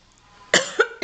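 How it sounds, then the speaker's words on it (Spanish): A person coughs during a talk, three quick, close coughs in a row with no speech around them. "disculpen mi tos"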